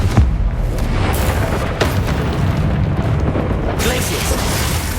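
Confringo explosive spell blasts from the Hogwarts Legacy video game, a dense, loud rumbling boom sustained across the whole span with brief sharp bursts layered over continuous battle noise.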